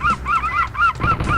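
Seagull sound effect from the video game Bumcharles 2: a run of loud, close, repeated squawking calls in a steady rhythm with no speech.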